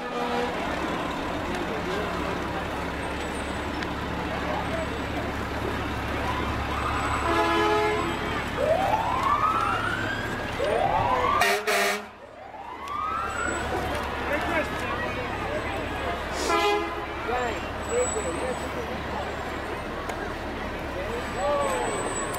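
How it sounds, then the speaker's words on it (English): A fire engine in the 2010 Grafton holiday parade sounds short horn toots and a few rising siren whoops amid steady street and engine noise. People talk nearby throughout. "The kids get a ride in the fire engine."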